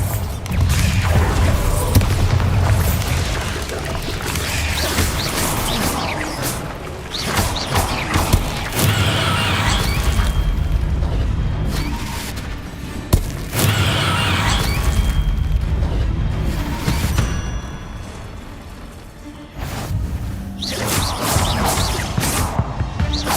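Bombarda blasting spells detonate in Hogwarts Legacy, with repeated booming explosions and crashing debris layered over game music and rumbling, at loud volume throughout.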